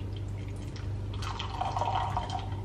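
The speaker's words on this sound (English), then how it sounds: "I'm just gonna take some water from the kettle." Water from a kettle trickles and pours steadily into a cup at close range over a low background hum.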